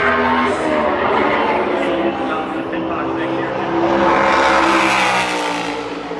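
Kyle Busch's NASCAR Cup car runs a qualifying lap at Phoenix, its engine giving a sustained high-pitched roar that holds steady and rises toward the end while a commentator talks over it.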